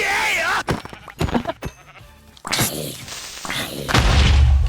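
Sheep bleat a few times among thumps and Minecraft game effects, with a low boom rumbling near the end.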